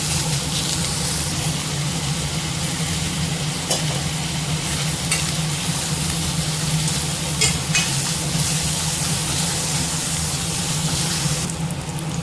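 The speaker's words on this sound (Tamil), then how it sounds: "கொஞ்சமாக உப்பு சேர்த்து வதக்கிக்கலாம்." Steady, loud frying sizzle as vegetables sauté with a little salt in a pan, with occasional soft stirring scrapes over a constant hiss and no talking.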